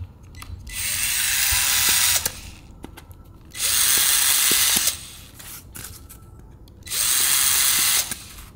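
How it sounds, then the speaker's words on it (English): A power drill bores holes through thick cardboard in three loud, close bursts of whirring, each lasting about one to two seconds, separated by quiet pauses with small handling clicks. "I will drill a hole in cardboard"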